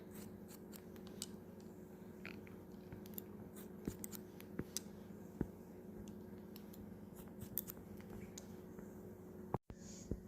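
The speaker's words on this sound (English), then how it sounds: "Just cut all the long hairs off so they connect." Scissors snip in short, sharp bursts during a basic men's haircut, quiet and close, with irregular clusters of small cuts over a faint steady hum and no talking.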